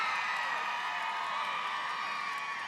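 A large crowd at an outdoor political campaign rally in Prescott, Arizona cheers and shouts in a continuous, even roar. It sounds somewhat distant and carries no distinct speech.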